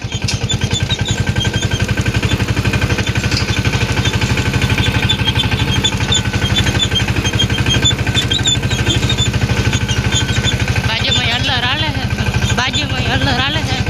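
A mini tractor engine chugs loudly and close by with a steady rapid beat, and a few faint warbling tones rise near the end over the constant engine noise.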